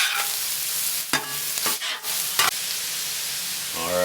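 Sausage browning on a Blackstone griddle, sizzling in a loud, steady hiss broken by several sharp scrapes and clanks of a spatula against the flat-top.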